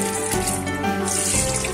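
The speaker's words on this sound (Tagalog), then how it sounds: "strain natin yung ating bigas" Tap water runs steadily into a sink as rice is strained for chicken biryani, a close, continuous splashing rush with no talk.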